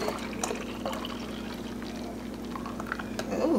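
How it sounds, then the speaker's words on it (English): Juice pours out of a small bottle in one steady liquid stream, with a trickling splash that stays close and fairly quiet for a few seconds and grows a little stronger toward the end. "let's go ahead and pour this out"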